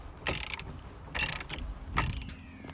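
Three clicking ratchet bursts as a wrench breaks a wheel nut loose while installing Avenue Performance wheels on a right-hand-drive 1993 Nissan 300ZX Twin Turbo, each burst a rapid pawl rattle lasting about a third of a second, close and fairly loud, with no talk.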